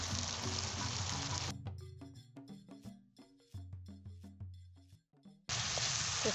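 Ginger garlic paste hits hot oil in a pan while village-style dry chicken is being made, giving a loud steady sizzle that drops to softer popping and clinking with low hum, then a sudden strong hiss returns near the end.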